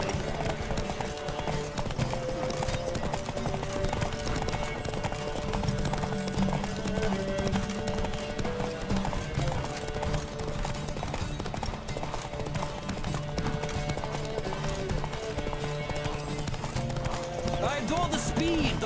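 Rhythmic hoofbeats of galloping horses run throughout over a busy soundtrack from the video game The Witcher III: Wild Hunt, with an occasional whinny.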